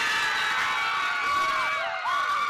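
Students cheer and shout together in a school gym, a steady, dense wash of young voices with a few rising whoops standing out near the end.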